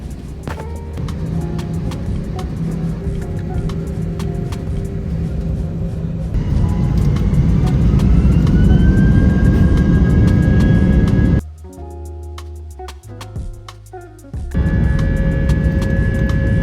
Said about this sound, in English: we can get airborne, and we're now airborne from Amsterdam